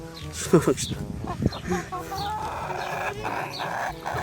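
Polish chickens cluck and squawk in short bursts near the listener, with farmyard bleats and a voice talking over the steady background.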